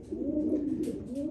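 Racing pigeons in breeding cages give a soft, close, continuous cooing, low and throaty, with faint rustling behind it.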